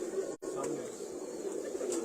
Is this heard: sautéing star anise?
no